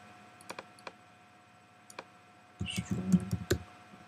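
Computer keyboard clicked a few times sparsely, then a quick close burst of typing keystrokes over a faint steady hum while coding HTML.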